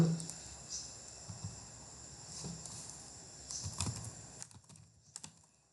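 Typing on a computer keyboard while writing code, quick uneven clusters of soft key clicks close by and fairly quiet, with short pauses between bursts.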